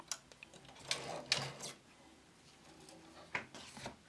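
A knitting machine carriage runs across a row, giving soft intermittent clacks and sliding rattles at a fairly low level, with no voices.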